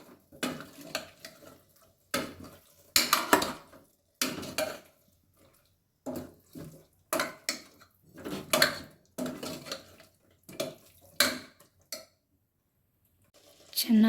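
A spoon scraping and clinking in a pot while potatoes and brinjal are stirred, in short intermittent bursts separated by silences, with a voice speaking at times.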